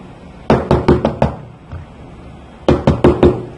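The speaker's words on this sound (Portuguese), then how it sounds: "Quando chegou lá, ele bateu na porta." Two quick bursts of firm knocking on a door, each a rapid series of about five raps, separated by a short pause; close and clear over a quiet room with no talking.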